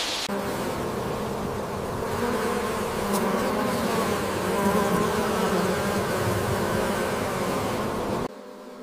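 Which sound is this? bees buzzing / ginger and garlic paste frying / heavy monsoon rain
bees buzzing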